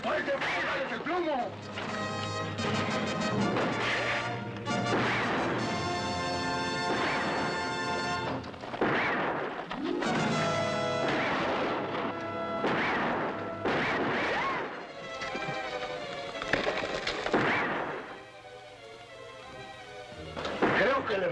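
Gunfire and crashing impacts from a Mexican comedy film's battle scene, with repeated loud bursts and shots mixed with music and shouted dialogue throughout.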